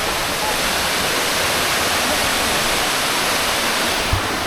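A waterfall in the Philippines roars as a dense, steady rush of broadband water noise, loud and unbroken throughout.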